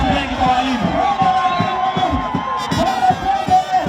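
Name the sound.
crowd applauding and cheering for teachers at May Day rally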